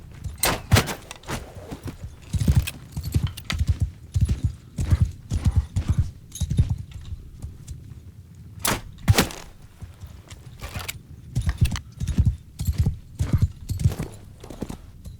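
Horse hooves clop in a steady, rhythmic gait while riding in the video game Bannerlord, the sharp close hoofbeats repeating throughout with brief louder cracks between them.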